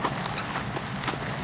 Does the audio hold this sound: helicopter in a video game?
no